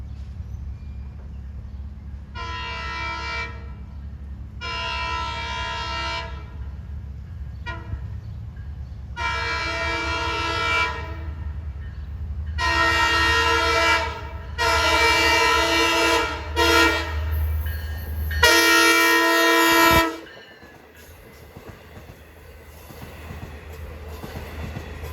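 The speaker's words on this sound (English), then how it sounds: "He's going to blow for the Conklin Avenue crossing and this Grove Avenue crossing" Montauk passenger train sounds its horn for road crossings in a long-short pattern of several loud blasts over a steady rumbling engine, the final blast sharper and closer before the horn stops.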